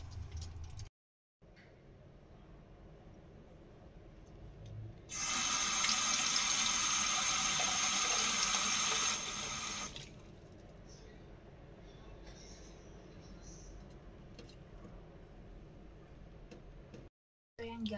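Water poured from a container into the tank of a handheld garment steamer, a loud steady splashing stream lasting about five seconds, with quieter background sound before and after.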